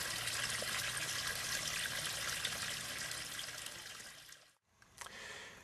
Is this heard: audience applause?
no